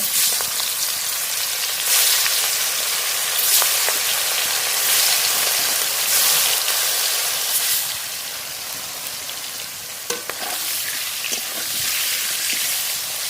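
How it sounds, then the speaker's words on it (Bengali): A rupchanda pomfret rubbed with salt and turmeric fries in hot mustard oil in a kadai, giving a loud, continuous, close crackling sizzle that eases slightly toward the end, with a few sharp spatters and clinks near the close. "লবণ হলুদ মাখানো রূপচাঁদ মাছ ভেজে নেব"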